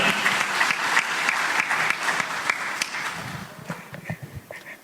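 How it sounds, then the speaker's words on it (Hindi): Loud audience applause at a live event in Uttarakhand, a dense burst of many hands clapping that thins into scattered individual claps toward the end. "जोरदार तालियां"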